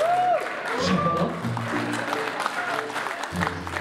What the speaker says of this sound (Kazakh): Шапалақ?